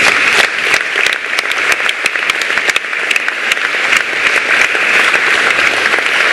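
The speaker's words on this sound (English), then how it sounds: "Please keep those applause going." An audience gives a loud, close round of applause at the end of a live interview. The clapping is dense and sustained, with sharper individual claps standing out, and no talk over it.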